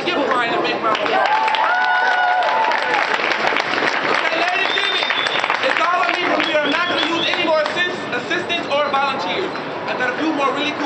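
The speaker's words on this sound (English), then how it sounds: "Everybody give Brian a big round of applause." Loud, sustained clapping from an audience, with cheers and whoops mixed in as people make noise together.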